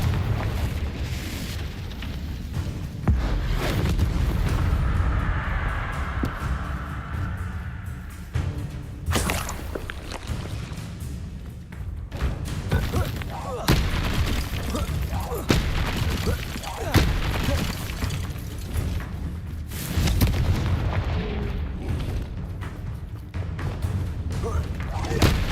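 Fiery Confringo spell blasts in Hogwarts Legacy combat boom repeatedly over a dense, loud game soundtrack of rumbling impacts and thuds, one heavy explosion after another in quick succession.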